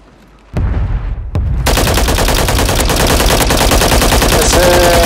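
Gunfire in a shooting video game, opening with a couple of sharp isolated shots before breaking into loud, continuous rapid automatic fire that dominates the rest of the clip.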